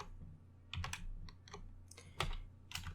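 Keystrokes on a computer keyboard while entering code for a networking program, a few quick clusters of clicks over a low steady hum, with no talking.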